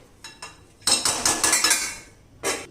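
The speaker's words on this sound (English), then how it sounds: "We'll cover this with a lid and cook it" A metal lid clatters onto a cooking pot: a few light taps, then a rapid run of rattling clinks as it settles, and one final clank, close and fairly quiet.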